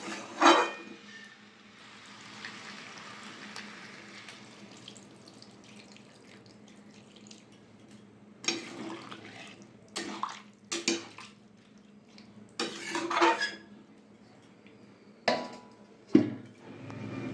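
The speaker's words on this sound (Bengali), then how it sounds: "এবার আমি জল দিয়ে 10 মিনিট ঢাকা দিয়ে সেদ্ধ করে নেব।" Water splashes steadily onto sautéed vegetables in a pot for a prawn vegetable curry, then the pouring stops and a lid clatters and knocks several times in quick, close bursts.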